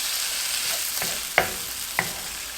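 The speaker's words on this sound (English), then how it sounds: "crushed garlic. And we're just going to saute this" Crushed garlic sautés with artichokes in olive oil, a constant close sizzle broken by two sharp clicks of a utensil against the pan.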